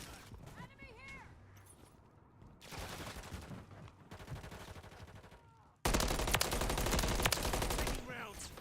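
Bursts of automatic weapon fire in Call of Duty Modern Warfare 3, starting moderate then erupting into a loud, sustained barrage near the end, with game voices talking between and under the shots.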